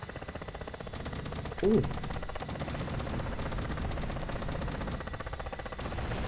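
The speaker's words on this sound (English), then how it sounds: "Commie's engaging with guns." Helicopter gun bursts in the combat flight simulator DCS, a rapid rhythmic stream of rattling shots heard faintly at a distance throughout. A man briefly exclaims over it.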